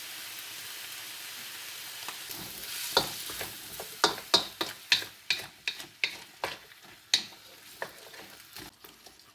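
Chicken stir fry in a pan with soy sauce and sweet chilli added, a soft sizzle under a run of sharp, irregular clicks and scrapes as the food is stirred and tossed, close and fairly quiet, no voices.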